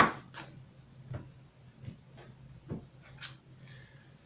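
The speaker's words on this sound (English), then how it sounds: "One more shuffle here for you guys." Soft, irregular taps and brushing rustles repeat a handful of times, tarot cards being shuffled close by in a quiet room with no voices.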